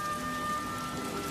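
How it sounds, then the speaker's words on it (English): Rain falls steadily in a continuous, even hiss of drops on surfaces with no pauses, and no voices are heard. "Is it still raining?"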